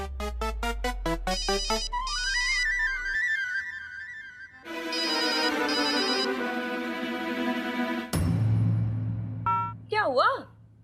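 An electronic ringtone plays a sequence of varied synthetic melodies and beeps, loud and close, ending with warbling tones.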